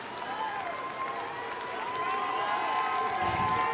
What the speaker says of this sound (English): here the fans, a lot of family and friend here, they were cheering for McCann as he hit that one out